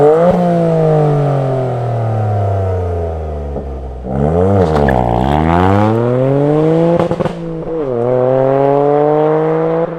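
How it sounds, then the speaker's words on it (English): A 2023 Toyota GR Yaris Rallye engine with an aftermarket setup revs repeatedly, loud and close: long rising and falling sweeps, a sharp blip climbing and dropping mid-way, brief crackles on lift-off, then another steady pull. "worked out how to make this engine sound just a bit more enthusiastic and a bit more lively"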